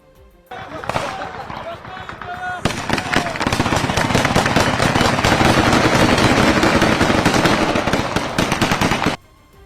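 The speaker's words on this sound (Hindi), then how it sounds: "ताबड़तोड़ फायरिंग की भी आवाज सुनाई दी।" Rapid bursts of gunfire crackle almost continuously for several seconds, loud and close, with sharp repeated shots running together, during a news report on the Israel–Lebanon conflict.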